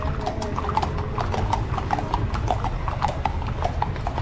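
Hooves from a charro horseback cavalcade clatter continuously through a festive street in Pachuca, a brisk rhythmic clip-clop that is close and loud, with a murmuring crowd underneath.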